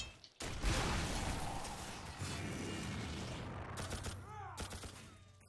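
Gunfire bursts from the video game The Darkness 2 in a loud, dense fusillade that rolls on for several seconds before thinning into scattered shots and sharp effects.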